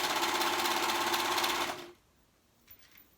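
A sewing machine stitching fabric for a girl's dress, running in a fast, steady whirring buzz for under two seconds and then stopping, followed by quiet with a faint small knock.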